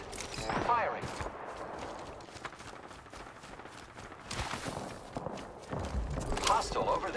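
Scattered gunfire and footsteps in Apex Legends ranked battle royale, with sharp bursts of shots near the start and near the end and thuds and movement between them, under occasional talk.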